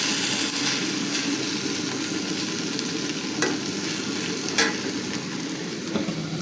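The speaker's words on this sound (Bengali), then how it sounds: "এখানে আমার ভেন্ডি ভাজা হয়ে গেছে" Okra fries in oil in a pan, a continuous close sizzle with occasional sharp clicks and spatula stirring, steady and moderate in level with no speech.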